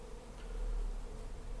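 Honey bees buzzing while being tipped into a hive during removal of a colony from a rotten tree, a low continuous droning hum, steady and moderately faint, with no voices.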